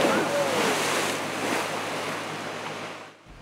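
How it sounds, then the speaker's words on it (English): Asphalt breaking up and collapsing into a muddy-water sinkhole near a wooded trail in Oxford, heard as a steady, loud rush of churning, pouring water and debris that eases off toward the end. "That was the asphalt collapsing into that pool of muddy water, a sinkhole developing"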